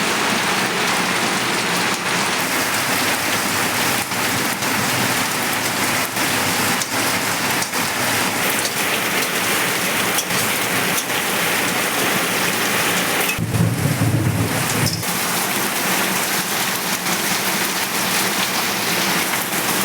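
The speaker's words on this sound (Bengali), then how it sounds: "মুষলধারে বৃষ্টি হচ্ছে।" Heavy downpour with thunder in a village, a loud continuous roar of rain on surfaces with a deep thunder rumble swelling briefly partway through, no talking.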